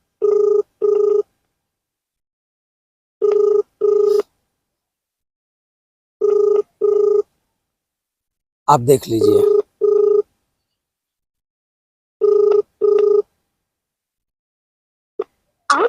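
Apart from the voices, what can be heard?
phone call ringing unanswered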